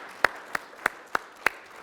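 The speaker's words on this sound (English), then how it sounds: "Round of applause for Pam and John." A small group at a casual coffee-and-coaching gathering gives sparse applause, really just five distinct, evenly spaced claps, light and fairly close, with no talking over them.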